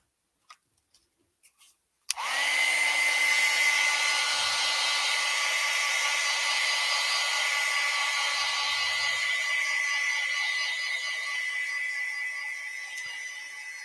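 After a few small clicks, a hair dryer switches on and blows steadily and loudly close by for about twelve seconds to dry watercolor paint, with no talking.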